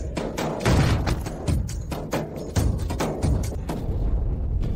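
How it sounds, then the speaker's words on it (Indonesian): A series of sharp, booming shots crack out irregularly, several in under five seconds, loud and close with echoing thuds. "Tembakan keempat."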